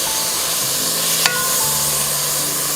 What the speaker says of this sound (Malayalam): ഇതുപോലെ പതുക്കെ ഒന്ന് ഇളക്കി കൊടുത്തൊന്ന് ചെറുതായിട്ടൊന്ന് വാട്ടിയെടുത്താൽ മതി.